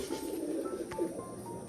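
Domestic pigeons kept as pets give low, soft cooing calls at close range, a few throaty murmurs over a faint background with no talking.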